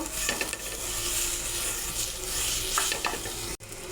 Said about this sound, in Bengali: এবার নারকেল কোড়াটা দিয়ে দেব, আবার একটু ভেজে নেব।